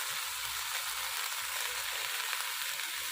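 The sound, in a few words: fenugreek greens added to frying eggplant in oil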